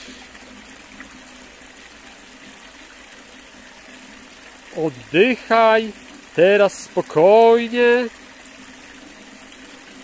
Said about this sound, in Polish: na dźwięku potoku, pozostając w całkowitym relaksie.